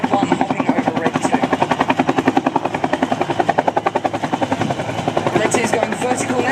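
RNZAF Bell UH-1H helicopter hovering during an air display, its loud, steady rotor thump pulsing throughout while an announcer talks over it.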